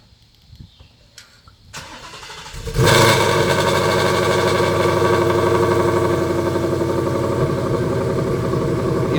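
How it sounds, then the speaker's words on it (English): A 2018 Mustang GT with headers, cold air intake, E85 and active exhaust cranks and fires, a few faint clicks giving way to a sudden loud start that settles into a steady, rumbling idle. "That sounds just like a GT350 cold start."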